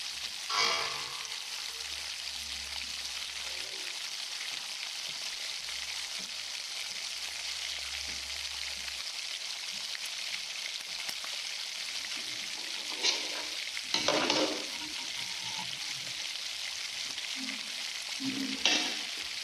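A pot of tomato and pepper sauce for spaghetti simmers with a constant soft sizzle and bubble, and a few scraping stirs come through near the end. No one speaks.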